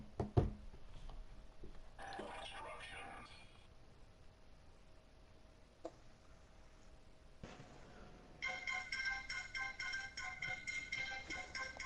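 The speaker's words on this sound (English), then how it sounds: "I'm gonna call your fucking phone and you're gonna answer it immediately" A mobile phone ringtone from an incoming call, heard faintly at first among scattered knocks and taps, then chiming in a brighter repeating pattern toward the end.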